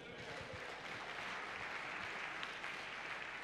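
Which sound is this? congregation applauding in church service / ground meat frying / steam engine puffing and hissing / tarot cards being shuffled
congregation applauding in church service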